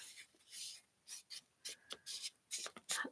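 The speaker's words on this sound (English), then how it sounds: "So just folding in half." Origami paper being folded in half by hand, a few short crisp rubbing and creasing strokes, close and fairly quiet, with no talking.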